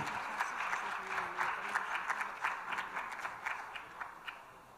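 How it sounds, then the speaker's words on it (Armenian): A crowd applauding steadily, many hands clapping in a dense, even patter that tapers off slightly toward the end. "Ծափահարում ենք։"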